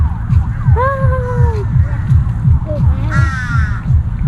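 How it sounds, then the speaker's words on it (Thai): Several crows caw loudly and nearby in a Thai railway park, their harsh calls repeating over a steady low rhythmic rumble and faint voices. "เสียงกาฮ้อง"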